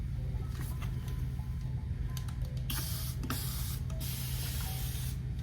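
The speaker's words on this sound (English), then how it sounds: "So I'm gonna start off by wetting my hair." Short bursts of a water spray bottle misting curly 3a/2c hair, several separate hissing sprays over a steady low background hum, fairly close and clear.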